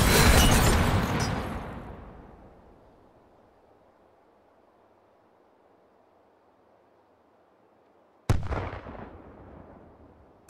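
An M224 mortar fires in the video game Hot Dogs, Horseshoes and Hand Grenades: a loud, close boom that rumbles away over a few seconds, silence, then a second sharp blast near the end.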